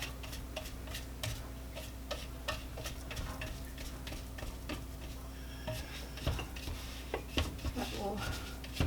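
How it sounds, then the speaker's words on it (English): Bar batter being mixed in a bowl, with quiet, rapid ticking and scraping of a utensil against the bowl in a steady rhythm, a few louder knocks near the end, and a low background hum. "Mix it just a tad bit more"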